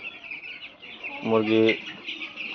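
Broiler chickens in a net-floored shed give one short, low, throaty cluck, close by, while soft chirping and farmyard murmur run underneath.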